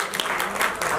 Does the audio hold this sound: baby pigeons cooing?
no